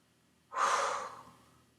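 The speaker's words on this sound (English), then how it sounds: "Take a deep breath." One deep breath during a calm chakra-balancing session, a single soft, airy inhale-exhale lasting about a second against a quiet room.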